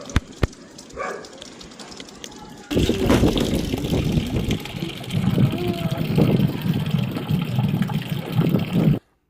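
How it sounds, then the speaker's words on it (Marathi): Water pouring and gushing while a terrace is washed, starting abruptly after a quiet stretch and running as a loud, steady splash close by, with a voice talking over it. "पाणी पडतंय का बघ."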